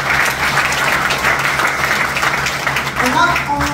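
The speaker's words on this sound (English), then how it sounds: "Can we give her a big round of applause?" Audience applause at an indoor business training event, a sustained, fairly loud wash of many hands clapping with a voice coming through near the end.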